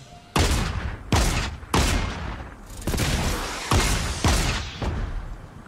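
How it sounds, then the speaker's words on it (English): Homing missiles launching from a vehicle-mounted weapon in the video game Fortnite: six heavy booming blasts with long rumbling tails, loud and close, spaced roughly a second apart. "Oh, it's got homing missiles!"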